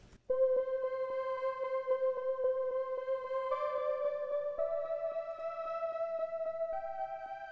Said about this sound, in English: I found this this preset from Make Pop Music's free preset pack. It's called Back to Basics